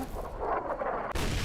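Gunfire in the video game Fallout New Vegas, a loud close burst with a booming tail and then a second sharp report about a second later.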